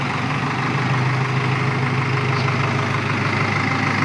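A tractor engine idles steadily on a farm, a constant low throbbing drone with no change in pace, close and fairly loud throughout.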